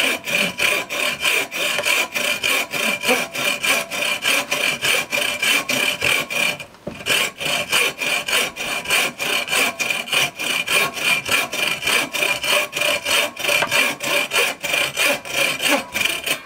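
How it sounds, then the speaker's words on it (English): A bow saw cuts through wood with fast, regular push-pull strokes, each loud rasping pass close and even, continuing steadily apart from one brief pause, with no voices. "quick bow saw."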